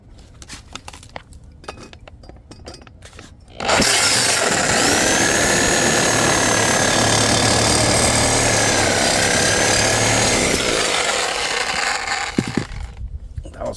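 A corded power cutter bites into the inner pipe of a K24/K20 stock exhaust manifold, a loud sustained whining grind that starts abruptly and runs for several seconds before cutting off, with quieter handling noise before and after.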